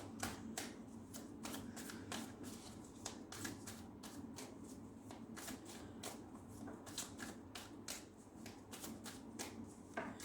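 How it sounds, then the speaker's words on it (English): Tarot cards being shuffled over and over, a crisp stream of riffling bursts close by, with a low steady hum underneath and no talking. "let us shuffle your tarot cards"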